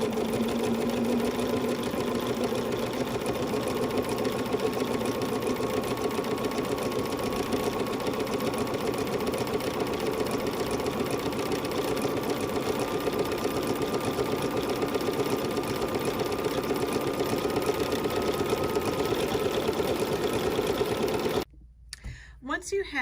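A sewing machine fitted with a couching foot stitches fabric strips in one long, steady, close-up whir that runs unbroken for about twenty seconds, then stops abruptly.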